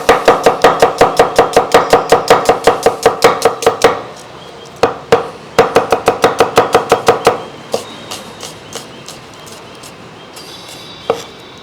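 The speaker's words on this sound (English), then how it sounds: "so we want slices here from our onions. And the thinner, the better" A knife thinly slices onions on a cutting board in quick, even bursts of sharp chops, pausing between runs, with a few isolated cuts near the end.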